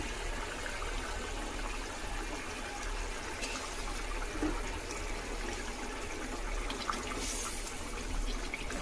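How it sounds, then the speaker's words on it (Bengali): Fish curry gravy bubbles at a rolling boil in a pan, a steady, close hiss and gurgle with small pops scattered throughout. "দেখুন বন্ধুরা, ঝোলটা ভালোভাবে ফুটতে শুরু করে দিয়েছে।"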